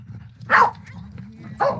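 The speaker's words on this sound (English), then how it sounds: "We can't take a barking dog constantly." A dog barks twice, about a second apart, at moderate distance outdoors over steady low ambient rumble on a calm, warm desert morning walk.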